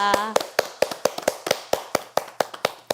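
Encouraging applause from a small audience at a televised religious gathering, heard as a handful of sharp, separate claps in a steady rhythm, fairly close and with no talk over them.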